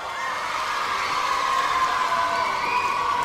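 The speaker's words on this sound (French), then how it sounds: "je vous demande d'applaudir notre nouveau champion" An audience in a tent venue applauds and cheers a new quiz champion with whoops and shouts, a dense, continuous roar of clapping and voices holding steady throughout.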